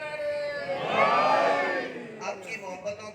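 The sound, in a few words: congregation chanting a religious slogan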